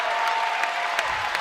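Applause from the crowd at a boys varsity high school basketball game between Lakota East and Lakota West, a steady, moderate clapping that carries through the gym with a few sharper claps standing out.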